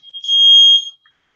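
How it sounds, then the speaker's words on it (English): A household smoke alarm set off by a gas stove's oven gives one short, loud, piercing electronic beep, close by and alone. "That's a smoke alarm."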